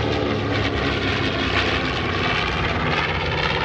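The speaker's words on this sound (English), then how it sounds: "This aircraft that you're seeing flying here today is the oldest B-25 still flying in the world today." A B-25 Mitchell bomber, the oldest still flying, roars past at a military base open house airshow, its piston engines and propellers making a loud, steady, broadband drone that holds throughout.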